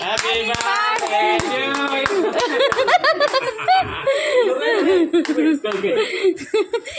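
People clap and laugh as a birthday cake is cut at a family party, with scattered claps mixed into close excited chatter and giggling throughout.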